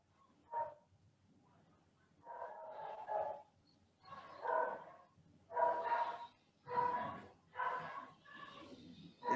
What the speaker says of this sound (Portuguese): Tem alguém com o microfone ligado onde tem um cachorrinho latindo.